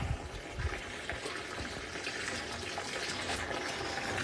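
Cold water runs steadily from a tap, a continuous close splashing flow with no talk over it.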